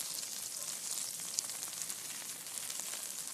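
About three tablespoons of butter sizzle in a pan, a steady, bright, crackling hiss that holds evenly throughout with no talking.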